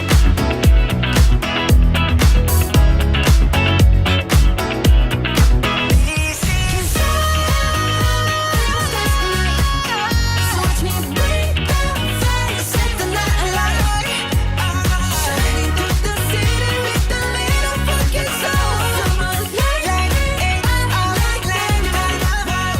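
Finished full mix of a pop song, a steady, loud, dense arrangement of driving beat, bass and layered vocals running continuously from start to end with no spoken voice over it.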